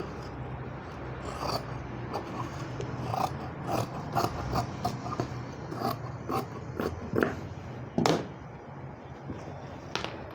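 Scissors cutting fabric into box-shaped pieces for a child's sleeve at a tailoring class, a series of crisp snips and rustles of cloth at close range, alone with no talk.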